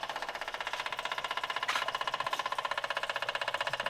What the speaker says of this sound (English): it's called GasTapper, and you can see we're pumping pretty good.